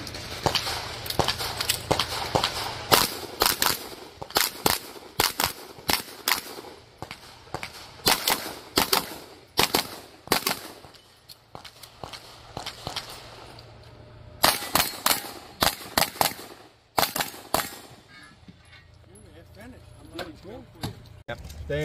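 Sharp pistol shots crack in quick strings across a USPSA practical shooting stage, loud and close, with pauses, footsteps and voices around them.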